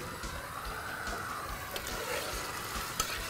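Chicken frying in a little oil in a Hadrami home kitchen, a steady close sizzle with faint stirring scrapes and a couple of sharper pops, no talking.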